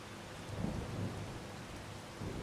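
Steady rain pours in Farming Simulator 25 with low thunder rumbling beneath it, swelling briefly near the start and again at the end; no one talks.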